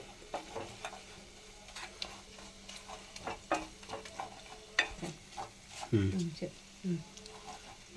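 Garlic chili paste being stirred into fried egg pieces in a pan: repeated close scraping and stirring strokes with light sizzling, a voice talking over it throughout.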